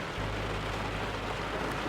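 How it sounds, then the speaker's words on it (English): Steady rain pours outdoors as a dense, even hiss with a low rumble underneath, continuous and fairly loud with no voices or other sounds breaking through. "This is the rain."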